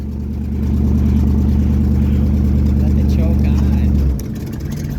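The engine of a 1971 Chevy C10 runs loud and close after a hard cold start, holding a steady rough rumbling idle that rises slightly, then drops away near the end as voices talk underneath.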